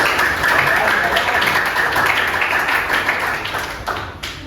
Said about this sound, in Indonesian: Tepuk tangan dulu Mbak Yan.